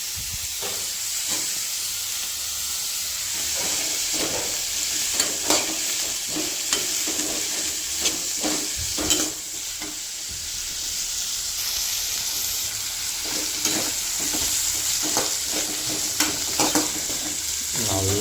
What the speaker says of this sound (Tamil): நல்லா வெங்காயத்தை வதக்கணும்.